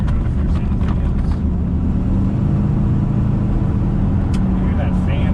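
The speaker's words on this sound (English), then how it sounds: "Hear that fan noise." Aftermarket engine cooling fan on a 1973 Corvette convertible with a 454, a loud steady low whooshing roar close by, running continuously with the engine, someone speaking briefly over it.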